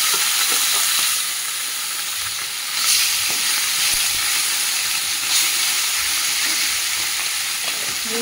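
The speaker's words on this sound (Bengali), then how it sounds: "মাছগুলো ভেজে নেব।" Fish frying in a pan, a continuous loud sizzle and hiss of hot oil with faint scraping stirs throughout, heard close without talk.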